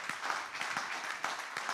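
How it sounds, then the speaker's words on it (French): A church congregation claps during a sermon, a steady dense patter of many hands filling the space at moderate level, with scattered louder individual claps standing out. "Est-ce que ça ne vaut pas le coup d'applaudir le Seigneur qui fait ça?"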